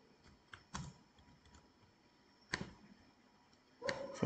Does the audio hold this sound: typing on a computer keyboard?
yes